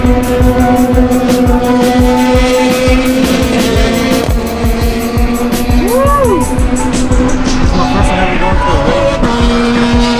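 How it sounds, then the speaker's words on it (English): LMP1 prototype race cars at Mazda Raceway roar past in a dense, loud, continuous engine howl, with pitch sweeps rising and falling as individual cars pass. "Just saw a bunch of LMP1 cars driving by already."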